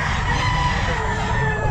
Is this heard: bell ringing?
no